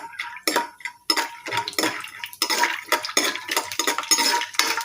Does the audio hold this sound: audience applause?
no